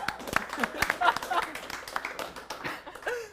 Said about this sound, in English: And clap it out.